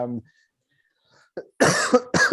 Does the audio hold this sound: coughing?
yes